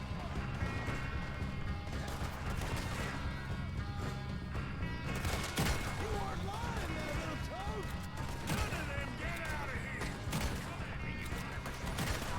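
Pistol shots ring out in a Red Dead Redemption 2 shootout, several sharp cracks spaced irregularly over a dense, busy game soundscape with other noise throughout.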